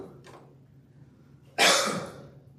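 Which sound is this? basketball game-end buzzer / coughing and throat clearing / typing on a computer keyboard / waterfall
coughing and throat clearing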